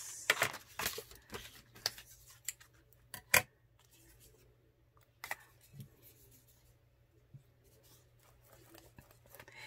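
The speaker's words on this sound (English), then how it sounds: "I am going to cut some of this." Scissors snip through small cardstock pieces of Tim Holtz tape-measure paper, with a few sharp close cuts and crinkles early on, then quieter scattered snips and paper handling.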